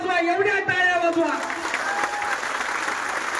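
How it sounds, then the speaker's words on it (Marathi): A rally crowd breaks into loud applause as a voice calls out over it, the dense clapping swelling and continuing after he stops speaking. "एवढ्या टाळ्या वाजवा, एवढ्या टाळ्या वाजवा"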